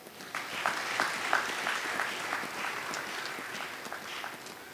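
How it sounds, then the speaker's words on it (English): An audience at a celebration of a Ugandan sugar corporation's centenary breaks into applause, a fairly faint but continuous patter of many hands clapping for several seconds. "So clap for him."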